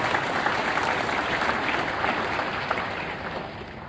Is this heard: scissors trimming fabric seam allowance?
no